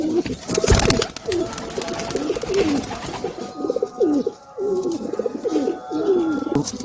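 Pigeons of a fancy breed coo repeatedly in soft, rhythmic throaty phrases close by, with some scuffling and handling noise in the background.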